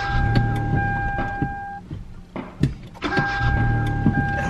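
A car engine cranking but failing to catch, a few short whirring starter attempts with pauses between, close and fairly quiet.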